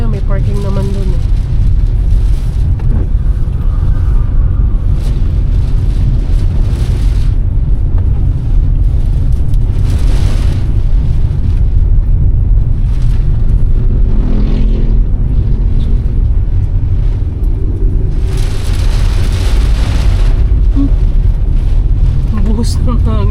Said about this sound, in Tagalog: Buhos ng hangin dito sa mga gilid.